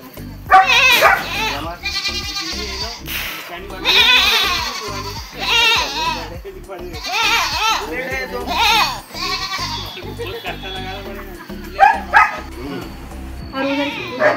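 Several dogs bark and yip in kennels at a family temple outing in Buldhana, with a goat bleating among them, the barks loud and frequent and mixed with people talking nearby.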